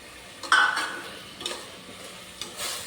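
Potatoes frying in a pan for aloo matar pulao, with a soft sizzle and scraping stirring strokes that come in a few brief bursts over a quiet background.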